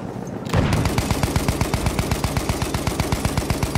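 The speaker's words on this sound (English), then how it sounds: "Feindliches Maschinengewehr!" Sustained automatic machine gun fire in the video game Battlefield 1, a fast, even stream of loud, close shots that starts abruptly and keeps going without pause.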